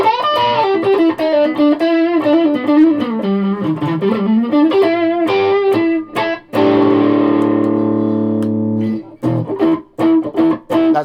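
Distorted electric guitar with all pickups switched on together, humbucker and bridge included, on a guitar fitted with P90, Tele, Strat, mini-humbucker and lipstick pickups: a loud run of picked notes, then a ringing sustained chord and a few choppy stabs.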